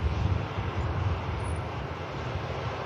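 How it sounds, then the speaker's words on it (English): Engines of an Icelandair Boeing 757 at Manchester Airport give a steady, broad jet roar with deep rumble, heard from a distance and unbroken, with no voices. "is the 75 of Icelandair. Only remaining commercial airline now operating this aircraft into Manchester."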